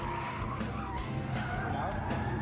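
A second-generation Nissan 200SX drift car sliding around a circuit at a SEMA drift show, engine roaring loudly and tires skidding and squealing throughout, with a voice faintly audible beneath.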